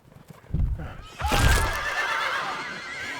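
Horses whinny loudly and shrilly at close range, with hoof clatter and thuds before the neighs in an outdoor setting.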